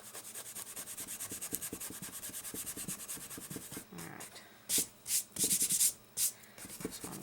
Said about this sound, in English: I want to rub pretty much all of this off